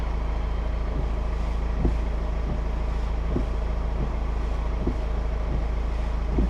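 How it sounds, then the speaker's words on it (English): Windscreen washer pump running on a 2013 Mercedes C220, a steady low electric hum with a faint rhythmic ticking pulse repeating about every 0.7 seconds, close and constant, no speech. "You can hear the washer pump."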